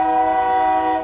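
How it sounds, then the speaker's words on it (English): A passing train sounds a loud, sustained horn, a steady chord-like blast that holds for about a second before tapering off, close by with no talk. "Stupid train."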